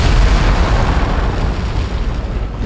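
A loud, booming blast rumbles and decays over a few seconds, a deep gunshot or explosion in Dead Space heard close with no talking.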